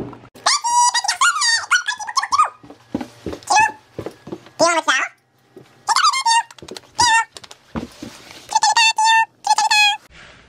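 A pet dog indoors on a rainy day gives repeated high squealing whines and yelps in short bursts, some stretched and wavering, with brief pauses between them, close and loud.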